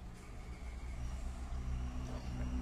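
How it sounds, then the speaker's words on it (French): Faint, steady low rumble of road traffic with passing vehicles in the distance, no voices. "Excusez-moi si vous entendez le bruit des voitures."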